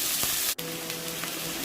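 Chopped potatoes fry in hot oil with mustard seeds and urad dal in a pan, giving a steady, close crackling sizzle with a brief dropout partway through.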